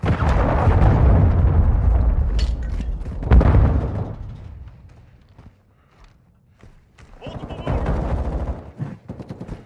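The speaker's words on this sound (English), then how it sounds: "Hostiles launched a cruise missile." A cruise missile strike in Call of Duty: Modern Warfare II lands as a loud, booming blast with heavy low rumble, surrounded by bursts of gunfire, then fades before another flurry of shots and impacts.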